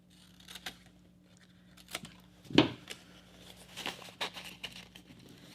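Scissors snip paper at a children's craft table, scattered quiet cuts and rustles with one sharper close snip midway, no talking.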